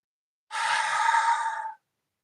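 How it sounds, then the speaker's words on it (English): A single breath let out through an open mouth with an audible "ha", a breathy sigh lasting just over a second, close and alone against silence. "I'm going to breathe in and exhale through my mouth, making that ha sound."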